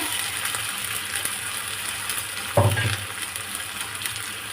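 Tomatoes drop into hot oil with ginger paste for a spicy mutton curry, giving a steady close sizzle with a brief louder splash and crackle as they hit the pan; no one speaks.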